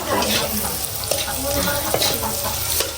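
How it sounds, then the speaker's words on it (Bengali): Shrimp fry in a pan with a loud, continuous close sizzle and bubbling, broken by occasional stirring scrapes, while faint voices murmur in the background. "এই যে চিংড়ি মাছ ভাজি হচ্ছে"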